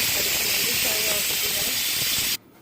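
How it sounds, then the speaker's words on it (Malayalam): A pressure cooker holding colocasia, green chillies and water releases its whistle as a loud, steady rush of hissing steam that stops abruptly after about two seconds. "കുക്കറിൽ ഒരു വിസിലടിച്ചിട്ട് വേവിച്ചെടുക്കാം ഒരു വിസിൽ"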